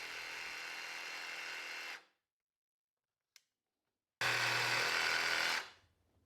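A jigsaw cuts hardwood edge banding in two loud buzzing runs separated by a quiet gap with a single faint click, each run ending abruptly as the saw stops.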